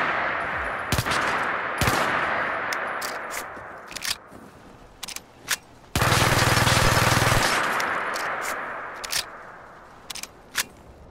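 Rapid automatic gunfire and sharp single shots from modded weapons in an Xbox wasteland shooter game, with one long sustained burst in the middle and scattered cracks around it, loud and close over ambient game noise.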